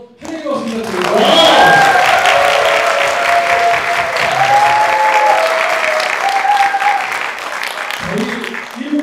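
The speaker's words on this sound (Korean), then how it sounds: "우리 다시 한번 환영의 박수 부탁드립니다." Welcoming applause from a studio audience on a talk show, swelling quickly and holding steady, loud and close, with voices speaking over the clapping throughout.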